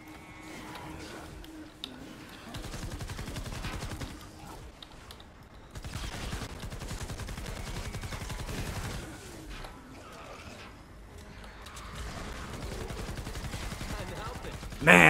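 Rapid bursts of fire from the Grave Digger assault rifle in Fortnite Save the World ring out in sustained strings under a voice talking over the gameplay.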